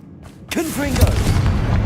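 A Confringo fire spell detonates in Hogwarts Legacy with a sharp, close blast, followed by a rumbling, crackling tail that persists to the end under a brief burst of spoken voice.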